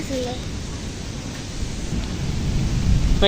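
Strong, gusting storm wind with a light drizzle, outdoors while gathering mangoes, roaring as a steady close rush of noise that builds louder toward the end.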